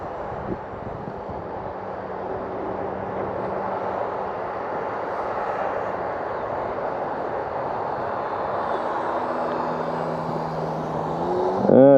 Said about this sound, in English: Let's try a touch and go, or a rolling landing or whatever.